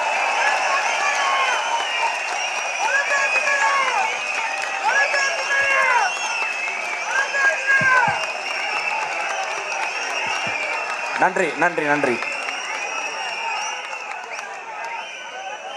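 An assembly at a PMK party general body meeting applauds to pass a resolution unanimously, a dense crowd clapping that runs steadily throughout while a voice repeatedly says thanks over it.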